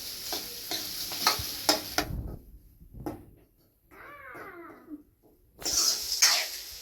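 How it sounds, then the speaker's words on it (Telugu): Onions sizzling in a pan with quick, close scraping stirs. The frying drops out for a stretch that holds a few faint thin squeaks, then loud sizzling and stirring return. "ఉల్లిపాయలు వేసుకున్న తర్వాత ఈ రెండింటిని ఇలా వేపుకోవాలండి"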